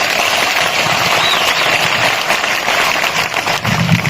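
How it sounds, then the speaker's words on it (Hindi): An audience at a farmers' rally claps loudly and steadily, a dense continuous patter of many hands throughout. "एक बार धर्मपाल की जोरदार ताली बजाओ।"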